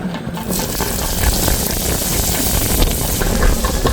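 Tamarind juice is poured into a hot pan holding onions, garlic and pepper for a fish fry cooked outdoors by the sea, giving a loud, continuous sizzling splash that holds steady throughout.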